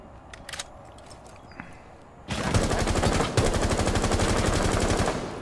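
Rapid automatic gunfire in a first-person shooter video game, a loud dense burst of repeated shots after a few quieter single pops and clicks, with no speech over it.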